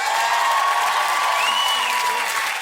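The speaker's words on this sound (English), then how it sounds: "They're cheering for you now" Studio audience on a televised talent-show results night cheering and applauding for a contestant named Mary, a steady, loud wash of crowd noise throughout with no pauses.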